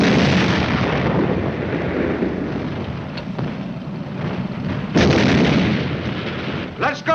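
Tank guns firing rounds at a German tank in a World War II battle scene, a dense continuous roar of heavy cannon and explosion rumble, with a sharp new blast near the five-second mark and more bursts at the end.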